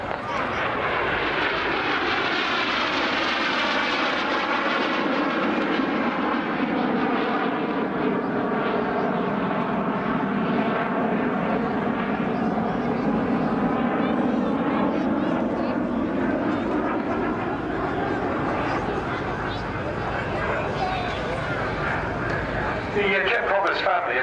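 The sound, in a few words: aircraft flying past at an air show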